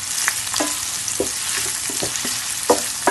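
Squid frying and sizzling in a pan for binagoongang pusit, with a steady hiss and occasional stirring clatter, close up and continuous with no talking.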